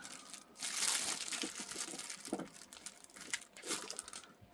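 Small glitter beads rattle and shift inside a container, a soft, crinkly clatter of tiny pieces that rises and falls in uneven bursts, fairly quiet and close, with no speech over it.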